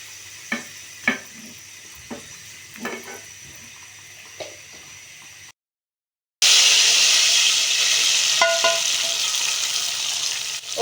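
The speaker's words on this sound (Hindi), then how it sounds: "इसमें स्लाइस किया हुआ प्याज डाल देंगे और इसको गोल्डन ब्राउन कर लेंगे" Sliced onions frying until golden brown for haleem, first quiet clinks and stirring taps in the pan, then after a short gap a loud, steady sizzle of oil.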